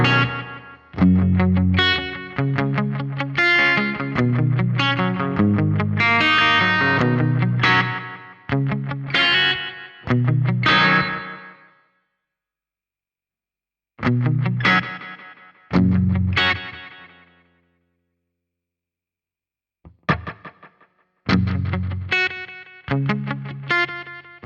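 Guitar through a Roland Space Echo tape delay with its rate sped up, loud distorted bursts of strummed notes and echoing repeats in several phrases, broken by short silences.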